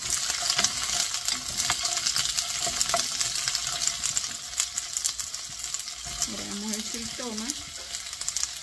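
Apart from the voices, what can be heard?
sautéing vegetables and garlic for shrimp soup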